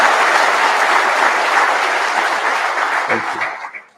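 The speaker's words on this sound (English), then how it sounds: "can we hear a loud applause" A large crowd at a batch inauguration ceremony applauds loudly for teachers, a dense, sustained roar of clapping that stays even and then tapers off near the end.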